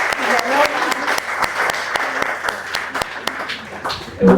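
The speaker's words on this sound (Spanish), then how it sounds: "primero un aplauso, me parece que se merece la opinión" Audience applause at a public talk on judicial independence in Spain, a loud close patter of many hands with sharp individual claps standing out, steady throughout before a voice breaks in at the end.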